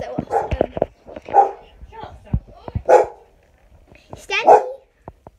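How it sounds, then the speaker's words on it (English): A dog barking indoors in short, sharp yips and barks, several bursts over a few seconds, mixed in with people talking nearby. "You can hear Stanley barking"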